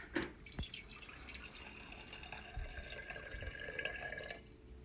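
Water trickles and drips steadily into a container, a thin continuous liquid sound with a few soft knocks, fairly close.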